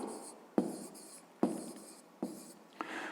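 Pen strokes on paper while notes are written in a fifth-grade maths lesson: four crisp scratches at irregular intervals, each fading into a soft scrape, close and quiet with no voices.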